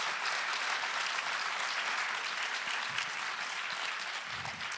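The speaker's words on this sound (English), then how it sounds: "Please give a very warm round of applause for Dipo Faloyin." A festival audience applauds a guest speaker at an equality event, a steady dense wash of many hands clapping at moderate distance, continuous and even throughout with no voices.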